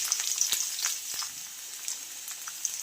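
Garlic, ginger and spices fry in a pan with a steady bright sizzle, broken by a few sharp pops and spatters close by.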